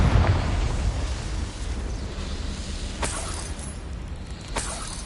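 Confringo fire spell blasts in Hogwarts Legacy: a steady roaring, crackling explosive rumble lasting several seconds, with sharp bursts cracking through near the three- and four-and-a-half-second marks, loud and without voices.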